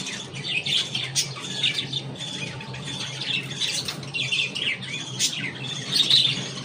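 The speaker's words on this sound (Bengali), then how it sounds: "এই পাখিটা যে মারামারি করছে" Small birds squawk and chirp sharply in a fight, with short, shrill bursts that repeat unevenly over a low background hum and no voices.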